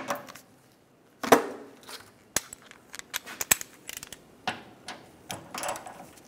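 Hand tools work on the fuel pump of a 1996-2002 Toyota 4Runner, giving sharp metallic clicks and ratchet-like ticks in irregular short bursts after a quiet start, close and moderately loud, with no talking.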